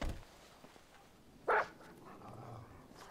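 A single sharp dog bark in the Grand Theft Auto V video game, brief and fairly loud against a quiet background.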